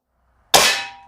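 Single shot from a Webley Valuemax .22 spring piston break barrel air rifle, a sharp sudden crack after silence that rings and decays over half a second, close and loud.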